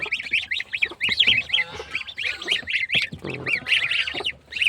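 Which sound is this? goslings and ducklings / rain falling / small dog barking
goslings and ducklings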